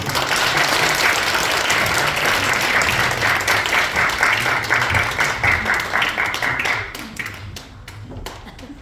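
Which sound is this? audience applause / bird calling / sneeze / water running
audience applause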